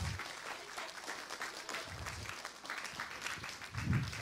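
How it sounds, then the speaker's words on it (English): Modest round of applause at a town council meeting, a small room of people clapping steadily at moderate distance, with low thumps and faint murmurs mixed in. "So give them a round of applause and tell them thank you."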